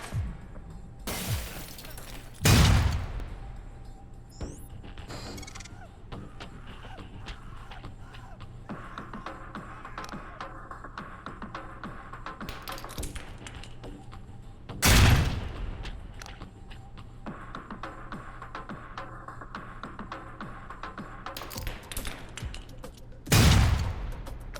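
Grenade explosions in the video game Alpha Protocol, one aimed beneath a truck's gas tank: three separate heavy booms spaced well apart, each a sharp loud blast with a short tail, over quieter in-game background sound.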